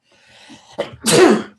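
A single close sneeze, with a brief sharp intake of breath before a loud, breathy burst.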